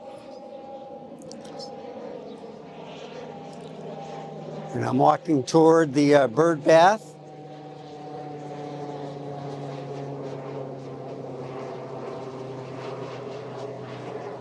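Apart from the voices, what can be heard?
airplane flying overhead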